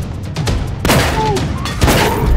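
Gunshots from a video game fire in a quick volley, with several sharp close cracks and booms, the heaviest blast landing near the middle among smaller repeated shots.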